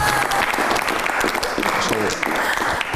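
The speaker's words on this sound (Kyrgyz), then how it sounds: "Мындай жаңылыкка бир шаңды кол чабуу керек го дейм" Loud, steady applause from a studio audience at a Kyrgyz television talk show, with dense continuous clapping filling the whole three seconds without a break.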